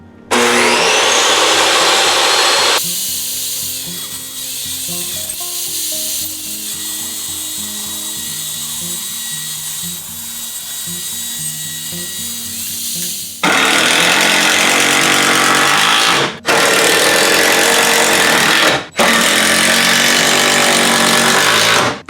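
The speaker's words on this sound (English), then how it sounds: "I need to rip 2 studs down to this thickness, so about 2 7/8." A power saw rips wooden studs down to under three inches thick, a loud close whine that drops in pitch as the blade bites the wood, then revs again in several short high bursts.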